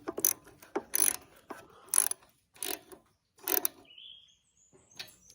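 Ratchet tightening a part on a small engine fuel tank: several separate bursts of quick mechanical clicking, close and fairly crisp, with short quiet gaps between them and no voices.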